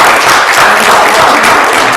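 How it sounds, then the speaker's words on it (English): Audience applause welcoming a guest speaker at a business analytics speaker series, a steady dense wash of clapping from a crowd, loud and continuous throughout. "Let's give him a little bit of applause"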